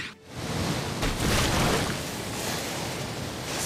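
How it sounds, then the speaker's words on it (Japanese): In the Inazuma Eleven GO Strikers 2013 football video game, the Tsunami Boost special shot unleashes a rushing water surge, a loud, sustained roaring wash like crashing surf that swells and holds to the end. "津波ブースト"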